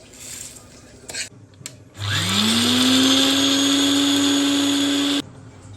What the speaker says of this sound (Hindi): अब आपने सभी चीज़ों को मिक्सर ग्राइंडर में पीसना है। ठीक है, मैं थोड़ा थोड़ा करके इनको पीस लूंगी।